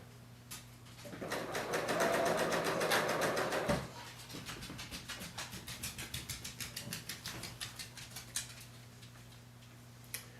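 A Bernina L890 serger stitches a seam in a steady whir that slows into a run of distinct rhythmic clicks, close and fairly quiet, with a steady low hum underneath.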